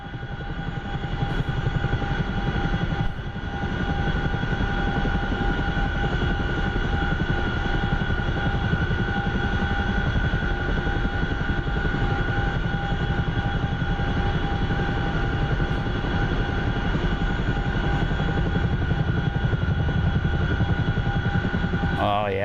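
A Chinook tandem-rotor helicopter in the DCS flight simulator drones on steadily, a loud constant engine whine and rotor hum that stays even throughout with little variation.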